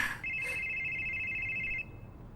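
A telephone rings once with a steady electronic trill lasting under two seconds, then stops, leaving quiet room tone.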